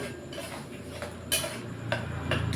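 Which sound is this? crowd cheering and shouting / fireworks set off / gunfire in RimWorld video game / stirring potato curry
stirring potato curry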